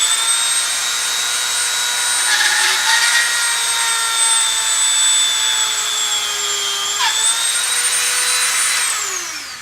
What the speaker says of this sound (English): So continuing the drill.